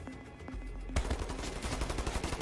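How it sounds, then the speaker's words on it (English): Automatic gunfire in Wolfenstein: The New Order, a few scattered shots followed by a sudden sustained burst of rapid, evenly paced machine-gun fire, dense and fairly close, with no voices. "Dude, friendly fire, you're shooting at me."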